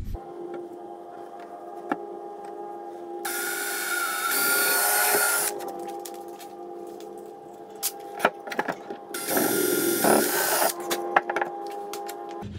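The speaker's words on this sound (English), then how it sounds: "I'm going to go ahead and drill some pilot holes through the top and bottom" A power drill whines steadily, boring pilot holes through the top and bottom of a rustic wooden coffee table, with two louder, harsher bursts as the bit bites in, plus a few clicks and knocks nearby.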